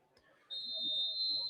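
A referee's whistle sounds at a night football game between the Lima Warriors and Flag City Phantoms, one steady shrill blast held about a second over a faint crowd murmur.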